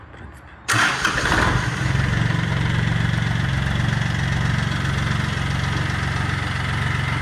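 A Kubota L1-18 compact Japanese tractor diesel engine cranks briefly after a moment of quiet, catches and settles into a steady, loud, even idle that runs alone to the end.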